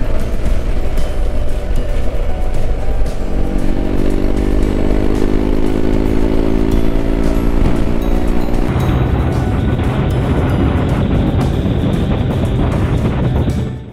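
A motorcycle rides along roads in Scotland, its engine a loud, continuous close drone mixed with heavy wind rush, the pitch shifting as it changes gear partway through.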